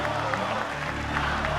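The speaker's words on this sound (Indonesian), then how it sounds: "hadirin, kita berikan tepukan yang paling meriah untuk para calon pemimpin Indonesia" Audience applause for the 2024 Indonesian presidential candidates at a closing-statement event: a steady, dense wash of clapping from a large indoor crowd, held evenly throughout with a low hum underneath.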